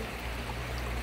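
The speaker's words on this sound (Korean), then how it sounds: "물소리 너무 좋다." A mountain stream flowing along a walking path in May, heard as a steady, even wash of rushing water that fills the whole moment, close and continuous with no voices.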